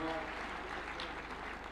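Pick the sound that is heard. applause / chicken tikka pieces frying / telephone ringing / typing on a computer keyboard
applause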